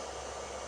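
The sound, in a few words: electric fan running on inverter power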